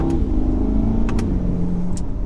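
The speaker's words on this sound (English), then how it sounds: "This is the performance exhaust." A C8 Corvette Stingray Z51 with the LT2 pushrod V8 and performance exhaust growls loudly and close by, its pitch sliding down across two seconds with a few sharp crackles.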